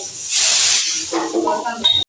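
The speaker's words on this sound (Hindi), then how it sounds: "उधर दाल में कुकर में सीटी भी आ गई" Steam hisses loudly from a pressure cooker of black urad dal on a home kitchen stove in one sustained burst, then tapers off as brief tonal sounds from the cooker and kitchen follow.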